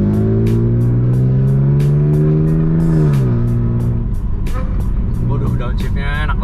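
A Ferrari 458 Italia's engine revs high and climbs, then drops sharply through a downshift and settles into a lower, rumbling tone, heard loud and close from inside the car.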